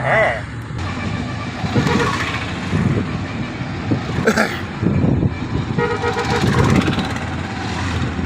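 A car drives past on a busy road, its engine rumble swelling and fading under steady talk, with a horn tooting briefly near the middle and other traffic noise throughout.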